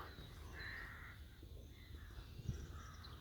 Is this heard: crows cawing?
yes